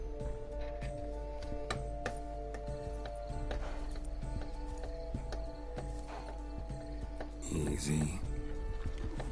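A horse in The Witcher 3 video game, with steady clip-clopping hooves and a short whinny near the end, heard faintly under game music and a voice.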